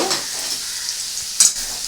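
Potatoes sizzle in a hot pan for Bengali aloo posto, a steady close frying hiss with a quick scrape and clink of a spatula stirring partway through.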